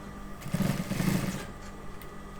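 Sewing machine stitching a zipper onto a garment, a short low whirring run that swells and fades over about a second amid soft handling noise, no talking.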